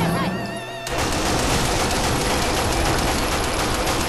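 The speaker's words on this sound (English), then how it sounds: "Now with the shotgun." A shotgun fires in the zombie action game Onechanbara Bikini Samurai Squad: a brief tonal game sound gives way to a loud, dense, sustained barrage of blasts and gunfire that continues to the end.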